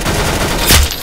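A gunshot lands a headshot in a video game. A sharp, loud report bursts out of dense game noise in a very short moment.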